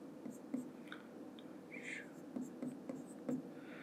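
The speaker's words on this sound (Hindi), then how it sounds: "चलिए इसको प्रॉपर लिख लेते हैं" Numbers are written by hand during a maths lesson, giving faint scratchy pen strokes in short irregular bursts over a low background hum, quiet and close.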